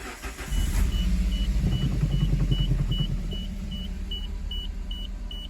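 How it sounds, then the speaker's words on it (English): A car engine with a dead cylinder misfire cranks into life and settles into a low, uneven idle rumble, with a regular electronic chime beeping throughout, close by and without talk. "Let me actually start the car and we'll see and feel the dead miss."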